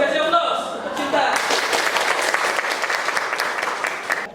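Classroom applause for a student, with a voice speaking briefly before a burst of many hands clapping that stays dense and lively for several seconds, then slowly tapers.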